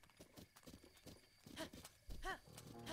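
A horse's hooves clip-clop in Zelda: Breath of the Wild, with rhythmic hoofbeats and a neigh at moderate loudness under faint game sounds.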